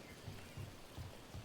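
Steady rainfall in the video game Dragon Age: The Veilguard, a soft even hiss on a high lookout with faint low rumbles pulsing beneath, no speech.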